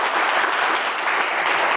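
An audience at a game-show event breaks into dense, loud applause, a steady wash of clapping hands filling the whole moment with no voices over it.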